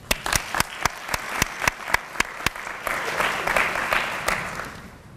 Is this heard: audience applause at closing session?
yes